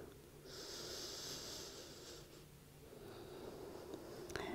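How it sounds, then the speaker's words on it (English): Slow, steady breathing during a yoga session: one long, soft, airy exhale lasting a couple of seconds, followed by a quieter breath, close and without speech. "Try to slow down and steady your breath here."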